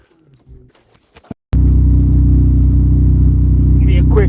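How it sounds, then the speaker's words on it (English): A sailboat's outboard motor starts abruptly after scattered knocks and bumps, then runs loud and steady with a low rumbling drone, a brief voice over it near the end. "Look at the motor going, steer us into the wind."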